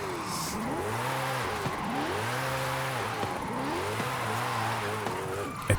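Forza Horizon 5 race car held in a long drift, engine revving up and down in repeated rising and falling sweeps, gear changes between them, continuous and fairly close with no talk.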